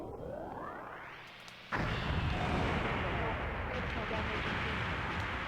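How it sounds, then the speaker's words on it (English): Explosion in the video game Omega Boost: a rising whoosh breaks into a sudden loud blast, followed by a sustained roaring rumble that stays strong. "That explosion blew me up."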